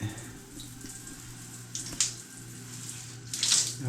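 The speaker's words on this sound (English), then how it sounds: "hot water shower since I left Australia" Hot water runs steadily from a shower head, a constant hiss with a few brief splashes and knocks near the end.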